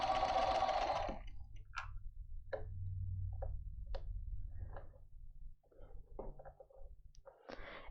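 A sewing machine stitches a curved geode quilt seam, a dense mechanical whir for the first second, then the fabric is repositioned with soft low rumbles and scattered clicks and taps, close by with no talk.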